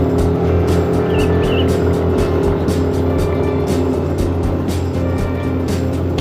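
Motorcycle engine pulling hard up a steep, pothole-filled road toward Papandayan volcano in Garut, a loud, sustained droning roar that holds steady throughout, heard close and alone.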